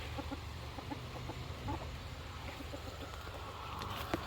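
Chickens cluck in short, scattered bursts against a steady low outdoor rumble, with a few sharper calls near the end.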